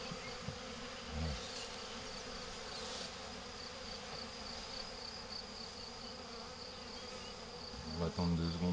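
A swarm of honeybees hums continuously close by around a Layens hive, a dense droning buzz with occasional soft knocks and rustles underneath.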